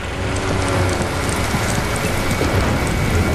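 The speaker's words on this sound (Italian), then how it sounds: "Piove, senti come piove, guarda come piove, senti come viene giù." Steady, dense rainfall in the video game Watch Dogs patters loudly and evenly throughout, a constant wash of drops with a faint mechanical rattle beneath.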